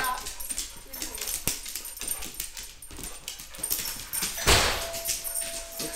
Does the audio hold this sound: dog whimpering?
yes